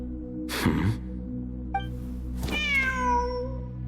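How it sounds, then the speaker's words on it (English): A cat in the video game Genshin Impact gives a drawn-out meow near the end, clear and close over a steady low ambient drone, preceded by a soft breathy rustle and a brief chime. "The cat's showing us the way forward."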